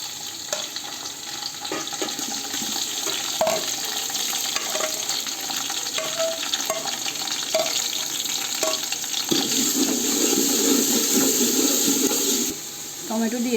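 Onion, ginger and garlic fry in hot oil for a chicken biryani, a steady close sizzle with intermittent spoon taps and scrapes, swelling into a louder, rougher crackle partway through.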